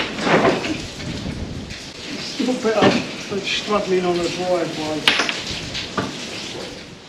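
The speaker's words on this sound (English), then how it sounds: "You can probably hear the rain outside." Steady rain from Storm Bert patters outside a Mercedes Vario camper van in the UK, a soft continuous hiss under a person talking close by.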